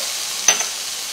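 Garlic frying in a pan for a shepherd's pie gives a steady, soft sizzle throughout, broken by one brief clink of stirring midway.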